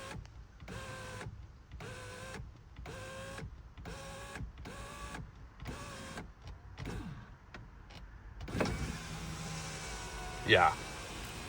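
An electric window regulator motor in a Renault Scenic 3 whirs in repeated short bursts, about eight evenly spaced runs, close and clear, followed by a longer rumbling run and a rising squeak near the end; a person speaks briefly.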